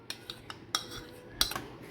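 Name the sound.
spoon adding yogurt (curd) to raita bowl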